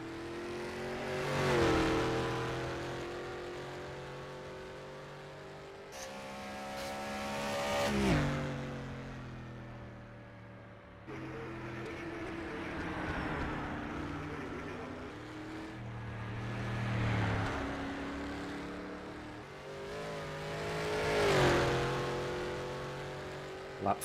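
A historic race car on the Isle of Man time trial course roars past repeatedly, engine note rising and falling as it approaches and recedes in several loud, sweeping passes with revving between them.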